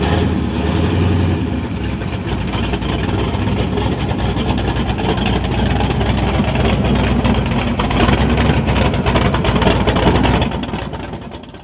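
A 1970 Chevelle SS with a 502 big-block engine runs in a loud, continuous deep rumble that swells slightly near the end before easing off.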